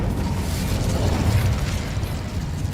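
A fire spell blasts in a wizarding video game, a dense, continuous rumbling burst with crackling texture that stays loud and steady throughout, thick low-end roar filling the whole span.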